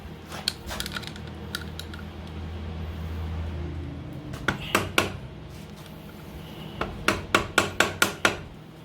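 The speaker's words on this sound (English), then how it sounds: "here comes the fun part of bending this washer back over" A hammer strikes a washer to bend it back during repair work on a 1978 Suzuki GS1000 motorcycle. A few scattered metallic taps come first, then a quick run of about six sharp, close blows.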